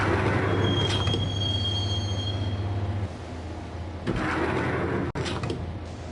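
A train rolls along in the Max Payne video game, a steady rumble of rail wheels with a high squeal near the start, a sliding-door swish, and louder clattering bursts near the end.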